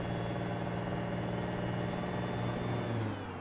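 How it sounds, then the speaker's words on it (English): A supercharged truck engine in American Truck Simulator drones steadily under load, a close, continuous mechanical hum with a faint high whine layered over it. "That whine is a supercharger."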